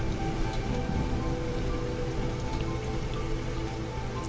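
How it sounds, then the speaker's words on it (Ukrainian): Heavy rain pours in a Roblox desert level, a steady, dense hiss of drops close and loud without pause, with a few sharper splashes and no talk. "Дощ почався, ви здіваєтесь, це пустиня і тут дощ."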